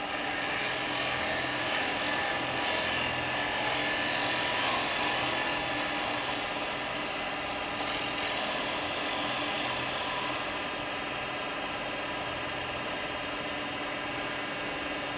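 A wood lathe spins a resin bowl while a tool takes a very fine finishing cut, giving a steady, dense whirring hum with a high-pitched whine that stays constant and fairly loud throughout, with no talking.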